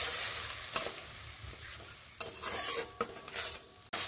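A ground spice paste with turmeric is stir-fried in a pan for a drumstick dish, with a loud, close sizzle and repeated scraping, clattering strokes of a utensil against the pan.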